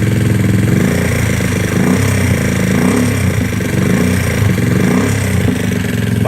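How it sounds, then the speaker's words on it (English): A GY6 scooter engine with a freshly tuned carburetor idle runs steadily and close by, with a few quick throttle blips swelling the low rumble before it settles back to a lumpy, continuous idle. "if I grab the throttle real quick, the bike starts wanting to move"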